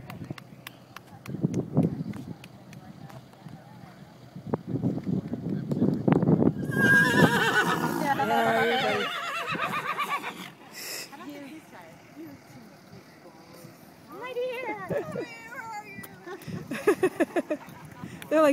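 A horse whinnies loudly in a long drawn-out call during a cross-country eventing competition, with hooves clip-clopping earlier and people cheering and talking around it.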